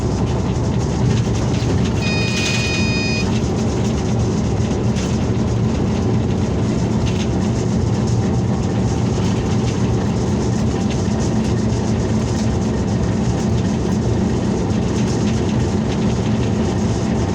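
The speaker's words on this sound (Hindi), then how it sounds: "यहाँ पर ट्रेन 10 मिनट रुकेगी।" A passenger train standing at Khanewal junction in Pakistan, with a loud, continuous low rumble of idling engine and station noise, a brief high tone early on, and no talking.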